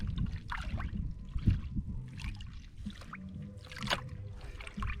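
Water and sand swirl in a gold pan during desert prospecting, giving a close, steady sloshing and gurgling with soft grainy scraping in repeated rocking bursts.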